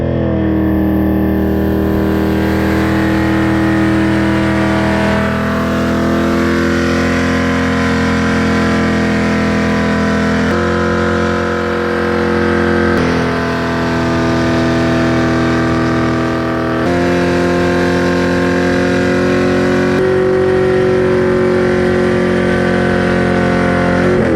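A Ford Mustang with a 10-speed transmission pulls hard through its gears, its engine note loud and continuous. The pitch climbs and drops at each shift, about every five seconds, and no one speaks.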